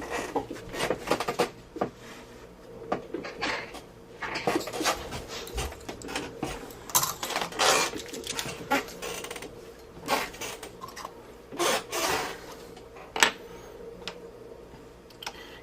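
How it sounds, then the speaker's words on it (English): Screws being undone with a hand screwdriver on a Compaq laptop screen assembly: a close, irregular run of small scraping ticks and clicks with short pauses, steady at low volume, with no talk. "now let's unscrew this and get to the inverter board."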